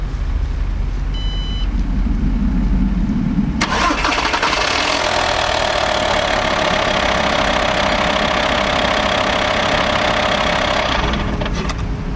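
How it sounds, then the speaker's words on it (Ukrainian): A car engine, jump-started with a booster pack, cranks and catches, then settles into a steady, loud idle that runs on for several seconds before fading slightly near the end. "можна запускати вже автомобіль"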